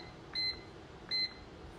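A Hamilton Beach bread machine, set to its cake cycle, gives two short electronic beeps a little under a second apart. The beeps are close and clear over a quiet background, with no talking.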